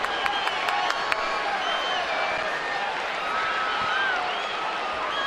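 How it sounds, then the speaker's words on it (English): A ballpark crowd applauds and cheers steadily in an ovation for a baseball player's first big league hit, a broad sustained wash of clapping with a few sharper claps early on. "And a great ovation from the crowd."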